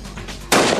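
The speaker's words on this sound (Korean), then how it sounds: "허공을 가르는 총소리와 함께 총탄은 유리창을 뚫고 테러범을 명중시켰습니다." A single sharp sniper rifle shot fired through a glass window at a target about 225 m away, bursting in loud and broadband after a moment of low rumble, with a brief sustained tail.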